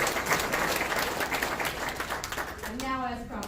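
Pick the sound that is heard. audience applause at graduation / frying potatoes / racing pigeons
audience applause at graduation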